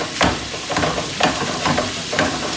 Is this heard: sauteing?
yes